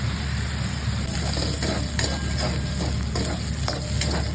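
Bombay duck (loita) fish frying in hot oil in a pan makes a steady, loud sizzle with occasional light metallic clinks of a utensil, close up and without talk.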